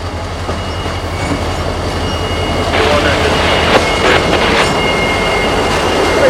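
Freight train led by locomotive 0704 with rock hoppers creeping in slowly, a steady close rumble with rhythmic wheel clicks and clanks that build as it draws nearer.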